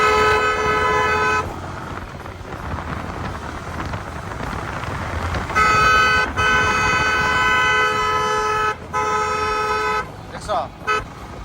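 A vehicle horn honks in long sustained blasts from close by, starting and stopping, with one broken, stuttering burst near the end, over wind noise on the microphone and road rumble.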